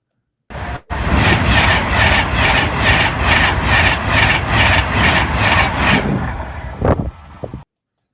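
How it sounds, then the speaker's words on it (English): UK high-speed train travelling at about 190 miles per hour roars past close by, with loud rhythmic wheel clatter that fades quickly after several seconds. "that was the UK, And that train goes 190 miles per hour."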